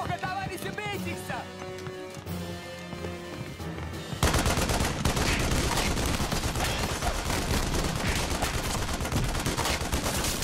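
Dense, loud volleys of film gunfire from an attack scene burst in suddenly after a few seconds of music and voices, then rattle on continuously as rapid overlapping shots.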